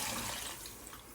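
Water is poured into a pot of sautéed chicken while maqluba is being cooked, making a steady, loud rushing splash throughout.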